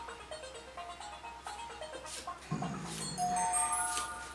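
A phone chimes with a short electronic mail notification, a clear ringing tone rising over a quiet room background during a card game of Commander.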